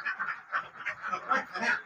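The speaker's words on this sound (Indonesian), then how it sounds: "Cukup heboh ya bebeknya" Egg-laying ducks kept in a dry-floor pen quack noisily and continuously, several overlapping calls in quick, uneven succession close by.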